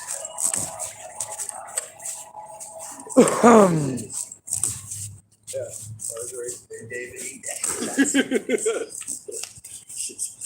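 Dogs whimper and yip in short bursts amid shuffling and rattling, with a person talking over them at moderate distance.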